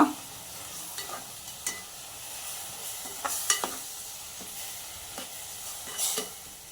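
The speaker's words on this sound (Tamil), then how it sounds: "அடுத்தது அரிசி போட்டுக்கோங்க. இல்லை ஒரு நல்லா வணக்கிக்கோங்க." Rice is stirred into a pan for vegetable biryani, with a soft steady sizzle under scattered scraping clinks of a spoon against the pan, a few sharper knocks spaced irregularly, no voices.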